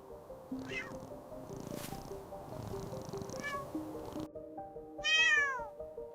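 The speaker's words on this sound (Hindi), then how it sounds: "बिल्ली का बच्चा बैठा है डरा हुआ।" A frightened kitten meows three times, with short, rising and falling cries, the last one loudest. Gentle background music plays underneath.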